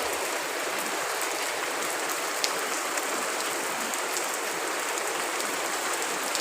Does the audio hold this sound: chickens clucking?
no